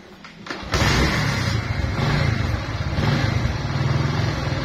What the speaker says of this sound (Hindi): बाइक स्टार्ट हुए कैसे उठी एकदम से